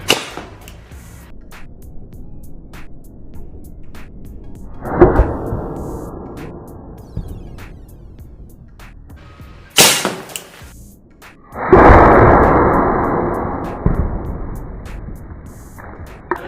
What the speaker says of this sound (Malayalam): അടുത്തതായിട്ട് നമ്മളൊരു പെപ്സിയുടെ ബോട്ടിൽ വെച്ചിട്ടുണ്ട്, അതിനാണ് ഷൂട്ട് ചെയ്യാൻ പോകുന്നത്.